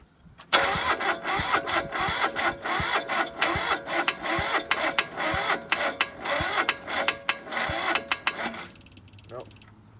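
A diesel engine cranks on a cold, snowy day, with a loud, rapid, rhythmic chugging from the starter that runs for about eight seconds without catching, then stops; a voice speaks briefly afterward.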